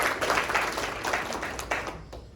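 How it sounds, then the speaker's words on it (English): An audience at a dealer event gives a brief round of applause, a dense patter of clapping that holds steady and then fades out near the end. "A big round of applause for them."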